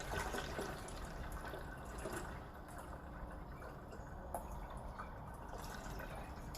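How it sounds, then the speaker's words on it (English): Homemade citrus oil poured into a jug, a continuous trickling, splashing liquid stream with small drips, steady and moderately close for the whole stretch. "you're just going to pour your newly made citrus oil into your jug and fill it up."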